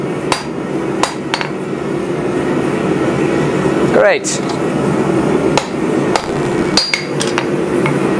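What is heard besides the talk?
hammer blows on metal while blacksmith forging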